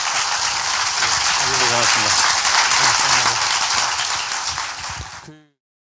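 Studio audience applause closes a Korean current-affairs interview show with an opposition party leader, a dense steady wash of clapping that carries on for about five seconds before cutting off abruptly.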